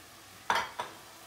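Pepper hits a hot pan for turkey chili, giving two quick sizzling bursts, the first louder and longer, the second a short fainter hiss, against a quiet background.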